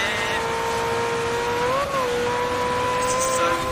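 A GT race car in a racing video game holds a steady, whining engine note that briefly rises and dips mid-pass, with a faint tire screech, loud and continuous over a rushing background.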